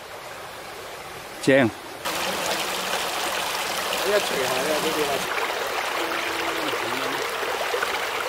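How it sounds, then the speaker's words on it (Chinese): A clear stream flows over rocks beside a stone path on Lantau Island, a steady broadband rush and trickle throughout, with a brief voice exclaiming early on and footsteps and movement over the water. "小心过呢条溪啊！ 哇，啲水好清啊！"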